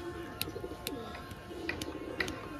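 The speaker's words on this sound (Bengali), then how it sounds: "এটি হলো নর এবং এটি হলো মাদি, পুরো একদম ফ্রেশ এবং ফিট পায়রা" A pair of pigeons coo softly and repeatedly at close range, low throaty calls with a few sharper chirps, against a faint steady background and no speech.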